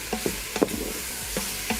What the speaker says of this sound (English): All right, I'm just gonna mix around.